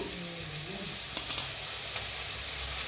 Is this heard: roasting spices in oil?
yes